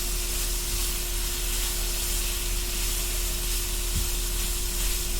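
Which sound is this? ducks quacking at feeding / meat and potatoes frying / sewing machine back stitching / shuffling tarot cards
meat and potatoes frying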